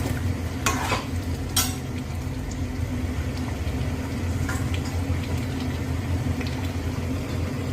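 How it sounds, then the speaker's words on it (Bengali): Onion, garlic and ginger spice paste stir-frying in a pan, a constant loud sizzle with a few sharp scrapes and knocks of a spoon early on, and no one speaking. "পেঁয়াজ রসুন আদা মানে যা যা মশলা লাগে সব দিয়ে কষাতে দিয়ে দিয়েছি।"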